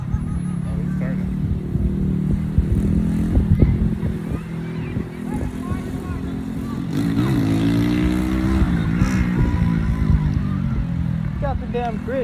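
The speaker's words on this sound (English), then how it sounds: "Got the damn Grinch on a motorcycle" A motorcycle rides past at a camp, its engine revving and rising in pitch as it approaches under people talking nearby, with background chatter throughout.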